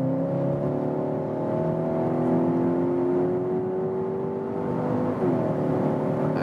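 A Skoda Octavia RS iV plug-in hybrid accelerates hard from 85 km/h in sports mode; the engine note climbs steadily as heard from inside the cabin, with a brief dip and shift around five seconds before it rises again.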